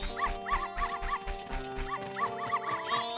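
Dogs in the Zelda: Majora's Mask video game, heard as a steady run of repeated yips and barks over rhythmic game music, loud and continuous with no voices.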